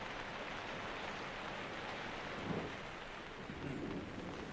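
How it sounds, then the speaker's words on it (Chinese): Sudden rain falls steadily as a broadband wash with no voices, and brief low rumbles that suggest distant thunder rise near the middle and end. "哦，是哦，下雨了，突然就下雨了。"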